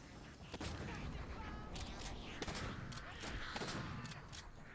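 Shotgun blasts in the shooter game Halo 4, a string of sharp, fairly close reports at irregular intervals over steady background game noise, heard without clear speech.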